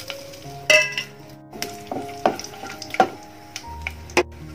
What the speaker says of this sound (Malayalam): ഇനി അതിലോട്ട് നമുക്ക് ആദ്യം കുറച്ച് സ്പൈസസ് ഇട്ട് കൊടുക്കാം.